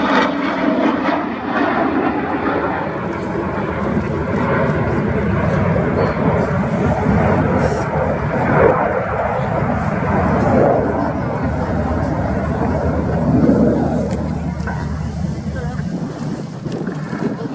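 Display jets roaring overhead at the RAF Cosford air show during a Red Arrows routine, a sustained loud broadband rumble with wind buffeting the microphone and brief swells as aircraft pass.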